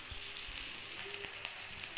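Onions fry in a pan with a little salt, making a soft, continuous crackling sizzle with a few small pops, faint and steady.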